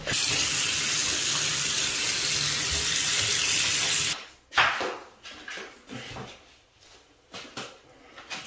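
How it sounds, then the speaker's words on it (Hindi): Running water pours steadily from a tap while clothes are washed for about four seconds, then stops, followed by scattered splashes, handling knocks and rubbing sounds, no talk. "सफाई के बाद कपड़े धोते हैं"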